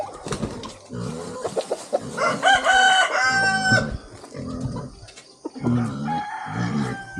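A Chinese chicken, a rooster kept at a house, crows several times in close, loud bursts, with cackles and clucks from fowl between the calls and no talk.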